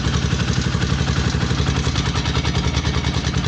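A motorcycle engine runs steadily at idle to charge an inverter, a close, loud, even throb with rattling clatter that continues for several seconds.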